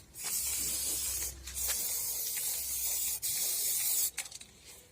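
Aerosol spray paint hisses onto old car tyres used as garden decor, one long close burst broken by two brief pauses, then a few short sputtering spurts at the end.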